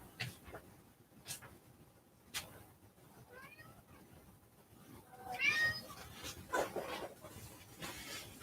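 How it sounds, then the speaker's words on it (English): A cat meows a few times at moderate distance, short calls breaking through scattered taps and soft background noise. "And there's the cat."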